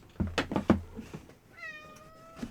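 A cat meows repeatedly, several short close meows at the start followed by a longer drawn-out tonal meow, then a final brief cry.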